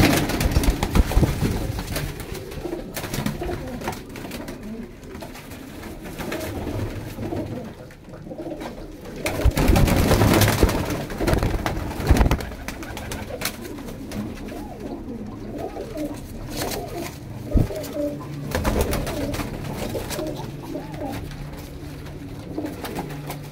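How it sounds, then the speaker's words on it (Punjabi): A flock of mixed pigeons, young and adult birds kept for sale in Faisalabad, coo continuously and close by, with overlapping throaty calls and occasional wing rustles. "ਪੱਠੀਆਂ ਪੱਠੇ ਵੀ ਆ, ਵੱਡੇ ਵੀ ਆ, ਮਿਕਸ ਕਬੂਤਰ ਨੇ"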